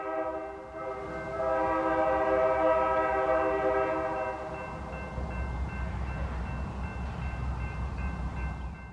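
Local freight train NSP-61 rolls past with its horn blaring in long sustained blasts, the horn loud and close before fading under the steady rumble and rail noise of the passing cars.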